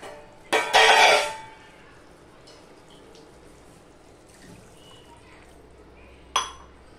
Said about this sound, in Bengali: ধরেন এখানে আরেকটু জল দিচ্ছি